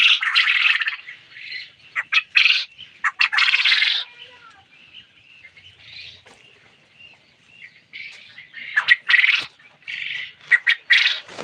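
Quail on a farm squawk and chatter in dense bursts, loud and close, with quieter stretches between the flurries of calls.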